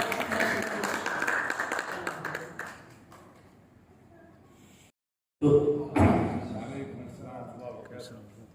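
Applause from the audience at an open senate session for the doctoral promotion of Dr. Ahmad Fuad: a dense wash of clapping that fades over a few seconds, then a pause before a voice and a few knocks follow.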